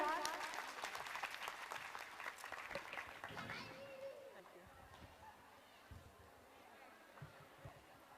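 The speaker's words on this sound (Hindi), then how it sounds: "जोरदार तालियां हो जाए एक बार।" An audience at a Rajpurohit community gathering in Surat breaks into loud applause that gradually fades over several seconds, giving way to crowd chatter and scattered claps.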